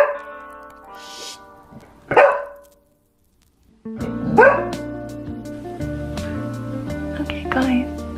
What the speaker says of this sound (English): So she just barked for attention.